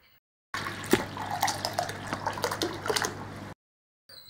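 Freshly churned homemade butter and buttermilk are poured into a bowl, a close, continuous liquid splashing and gurgling for about three seconds with small drips, then stopping abruptly, with no talking.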